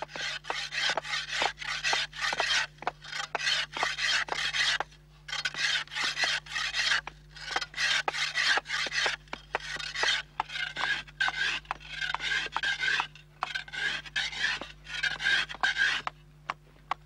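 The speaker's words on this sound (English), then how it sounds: "The final scraping and shaping at the wooden stake is done by a scythe blade." A scythe blade scrapes and shapes a wooden stake in rural Fermanagh, giving repeated rasping strokes in steady bursts with brief pauses, close and fairly quiet over a faint low hum.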